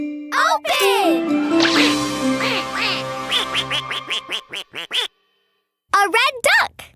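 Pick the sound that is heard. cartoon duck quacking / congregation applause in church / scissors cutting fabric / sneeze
cartoon duck quacking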